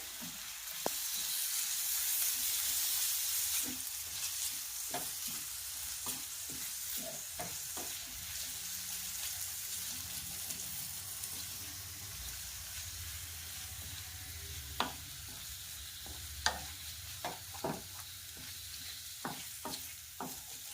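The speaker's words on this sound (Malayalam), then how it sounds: "പനീർ ചേർത്ത് നന്നായിട്ട് മിക്സ് ചെയ്യുക" Paneer stirred into a sizzling masala in a pan, a steady frying hiss carrying clear spoon scrapes and knocks scattered throughout, no voices.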